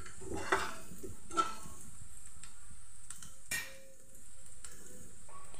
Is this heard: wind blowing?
no